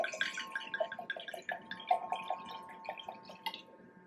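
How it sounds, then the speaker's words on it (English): Sweet wine glugging and trickling as it is poured into a glass, a quick run of bubbly splashes, close and quiet. "I'm gonna go ahead and"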